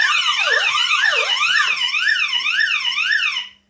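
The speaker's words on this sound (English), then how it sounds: "And we have ambulance, which I'm not sure if it's the same tone." A home security alarm system sounding its ambulance tone, a loud electronic wail sweeping up and down in repeated cycles for a few seconds before cutting off abruptly.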